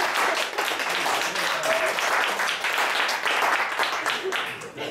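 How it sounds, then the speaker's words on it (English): A church congregation stands and claps their hands in a sustained wash of applause, with voices speaking over the clapping. "stand and give him a hand clap and thank Jesus for it."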